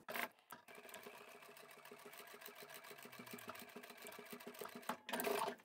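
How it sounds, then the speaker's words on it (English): A sewing machine stitches the seams of a large fabric duffle bag, running with a fast, steady mechanical rattle for several seconds, framed by brief handling noises at the start and end. "the other three sides will sew right along the edges"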